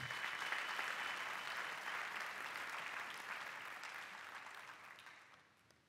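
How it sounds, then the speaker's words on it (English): Applause rises from the audience at a Mandela University summer graduation ceremony for master's and doctoral graduates, a soft, even wash of many hands clapping that tapers away over about six seconds. "Another round of applause."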